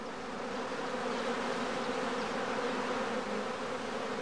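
Dense, steady hum of a honeybee prime swarm pouring out of a woven skep hive at a home apiary, continuous and fairly loud throughout with no voices.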